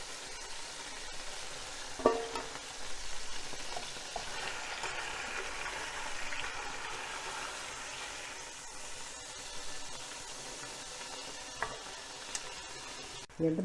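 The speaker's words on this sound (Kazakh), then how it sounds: "балықты қуырып аламыз" Fish fries gently in a small amount of oil, giving a steady, close sizzle with a few soft clicks and scrapes of stirring.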